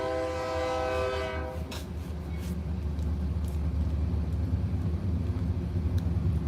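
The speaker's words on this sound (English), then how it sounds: "The train's going by." A passing train sounds a long, loud horn blast over the steady low rumble of its rail cars, which continues alone after the horn stops.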